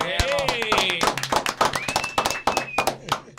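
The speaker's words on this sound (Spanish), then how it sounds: "Un aplauso para el Doc" Claps ring out for a guest called the Doc on an urban street program, scattered sharp hand strikes running under loud, overlapping talk throughout.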